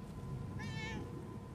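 Cat meowing in the video game Murdered: Soul Suspect, a single short mid-pitched meow over a steady low background hum.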